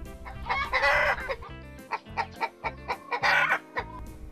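A hen clucks repeatedly in short, rhythmic bursts, with a rooster's crow breaking in, both fairly close and clear with no talking.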